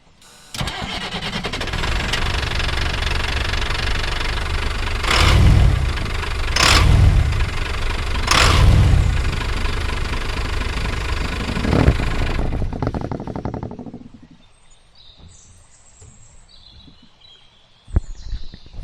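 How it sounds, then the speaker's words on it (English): A 1987 Ford F700 truck engine runs loudly at close range, revving up in three strong surges before cutting off into near silence. "I think the engine sounds beautiful."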